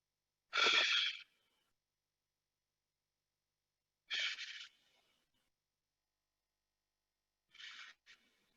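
Deep breaths taken in during a guided stretching exercise, three separate airy breaths spaced a few seconds apart, close and fairly soft, with silence between them and no talking.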